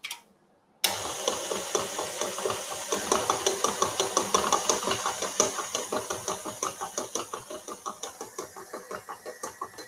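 After a brief silence, an electric mixer starts up beating cake batter with lemon juice for a date walnut loaf, giving a loud, close motor whir with a steady, rapid rhythmic pulsing.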